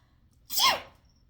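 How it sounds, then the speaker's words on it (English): A single sharp sneeze bursts out close to the microphone, loud and brief, with quiet surroundings before and after. "I have cat hair in my nose now, so let me sneeze that out."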